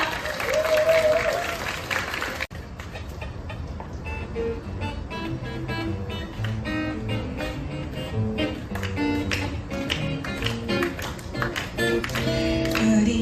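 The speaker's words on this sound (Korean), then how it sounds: "여러분의 힘찬 박수 부탁드리겠습니다." Guests at an outdoor wedding applaud and clap along loudly and continuously, mixed with acoustic music as a song begins.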